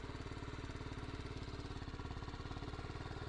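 A small engine idles steadily with a fast, even putter, fairly faint and continuous, with no talking. The engine is a 2023 BMW G 310 GS motorcycle, just started.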